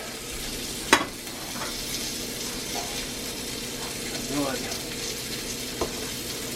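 Eggs frying in a cast iron egg pan give a steady, close sizzle with a few sharp clicks and small scrapes on top of it. No one speaks.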